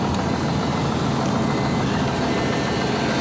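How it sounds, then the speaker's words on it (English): A snowy cold-start engine idles at around 800 RPM while warming up, a steady, dense low rumble that stays close and even throughout, with no voices. "The engines are running."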